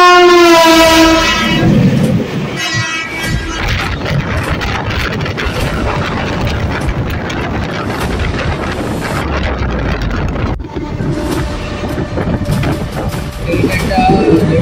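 The Kanchenjunga Express rolls past with a long, loud horn blast at the start, then steady rumbling clatter of wheels and wagons close by, with wind noise and a voice talking over it.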